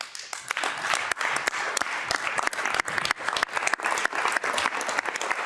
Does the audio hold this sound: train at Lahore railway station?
no